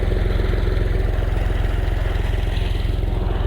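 A Honda 125 motorcycle idles close by in a village field, a rapid, regular thumping beat with light mechanical clatter, steady and loud, with no talking.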